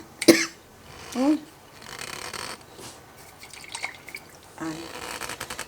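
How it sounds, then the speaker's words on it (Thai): Fish sauce goes into a spicy Thai salad of konjac noodles, long beans and fish balls in short, close drips and splashes, broken by a sharp cough and brief throat sounds. "เส้นกับลูกชิ้นก็ลวกเสร็จแล้ว ใส่น้ำปลาค่ะ"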